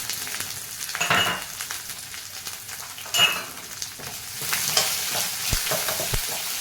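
Onion slices and ajwain seeds sizzle steadily in a hot pan for Punjabi kadhi while a spoon stirs them, with scraping bursts rising over the continuous close frying hiss.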